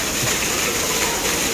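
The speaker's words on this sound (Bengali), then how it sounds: "দেখো কত সুন্দর করে ঝর্ণাটা পড়ছে এখানে মন্দিরের ভিতরে" Water from a fountain falls inside a Hanuman temple, a dense, steady rushing splash that fills the short stretch loudly and evenly, with no clear speech over it.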